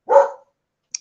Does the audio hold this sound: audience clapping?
no